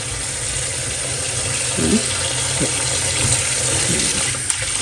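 Running tap water splashes steadily over grapes in a sink, with a few soft knocks and rustles of handling.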